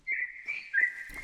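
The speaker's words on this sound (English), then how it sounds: "that's a loud bird!" A loud, shrill bird call from a video game rings out in three sustained whistling phrases close by, with a brief rustle at the end.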